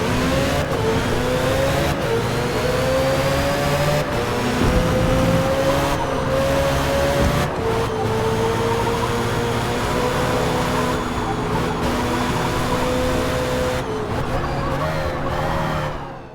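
Race car engines howl continuously in a Forza GT league qualifying session, with loud revving that rises and falls through the gears and tires working hard, steady and close throughout.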